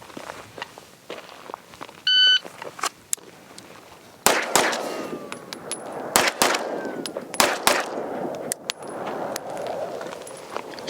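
A Staccato CS pistol with a Holosun 507 Comp fired on an outdoor range after a short electronic shot-timer beep: a string of sharp, loud reports in uneven rhythm, each trailing into echo, mixed with rustling and movement.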